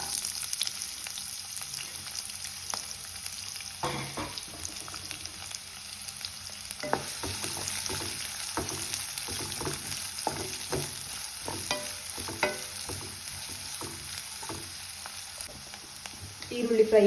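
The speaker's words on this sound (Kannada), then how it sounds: "ಈರುಳ್ಳಿ ಫ್ರೈ ಆಗಿದೆ" Chopped onion fries with cumin seeds in a pan, a continuous soft sizzle broken by repeated clicking and scraping stirs of a spatula, close and fairly quiet throughout, with no one speaking.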